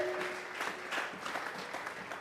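A church congregation claps together during a doctrine service, a dense, continuous patter of applause from many hands at moderate distance, with no speech over it.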